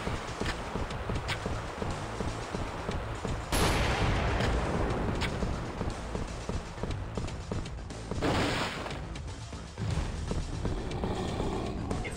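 Gunfire in the Fatal Raid shooter game fighting infected, heard as steady rattling bursts over a dense, noisy game soundtrack, with louder sharp volleys standing out near the middle and later.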